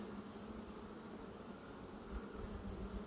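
Honey bees humming inside an opened beehive, a steady faint buzz that stays even throughout with no voices over it.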